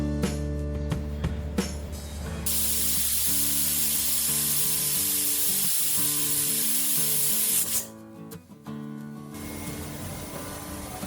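A pressure cooker cooking potatoes on a gas stove releases a loud, steady hiss of steam for about five seconds, then cuts off, leaving quieter kitchen hum and a few faint clinks.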